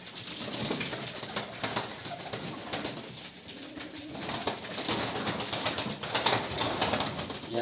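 Pigeons coo steadily inside a loft just after feeding, layered low murmuring calls with occasional wing flutters and rustling, close and continuous throughout.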